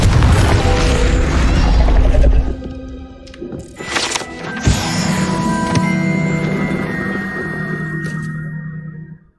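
Confringo fire spell exploding in the video game Hogwarts Legacy, with a loud rumbling blast followed by sharp cracking impacts and shimmering magical tones that fade over several seconds.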